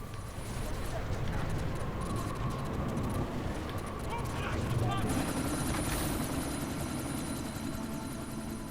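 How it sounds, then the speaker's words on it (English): A helicopter in the video game Deus Ex: Mankind Divided during a sandstorm gives a steady rotor drone and rumbling thump throughout, with a voice speaking over it. "you need to disable that chopper"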